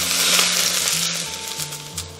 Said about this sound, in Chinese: 然后我们淋一点油激发香味